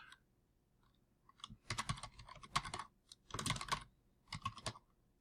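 Typing on a computer keyboard, close and fairly quiet, with clusters of rapid key clicks in three or four short bursts separated by brief pauses, and no voices.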